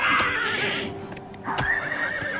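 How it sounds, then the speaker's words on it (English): Horse in the video game Oblivion Remastered gives a loud close whinny, pauses briefly amid a few hoof clops, then neighs again with a wavering, sustained cry. "Stop hurting the horse"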